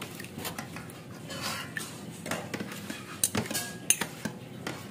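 A utensil clinks and scrapes against a metal pot while boiled sago is stirred, giving irregular close knocks and taps that grow sharper toward the end, with no talking.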